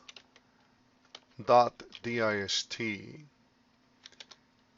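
Computer keyboard keys tapped in short bursts of quick clicks while a binom.dist formula is entered in Excel, with a person speaking in the middle of the typing.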